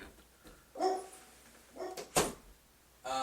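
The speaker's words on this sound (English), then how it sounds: "Hold on, I got dogs barking." Dogs barking in the background during a conversation about a card game: a few moderately distant barks and yips spread unevenly over a few seconds.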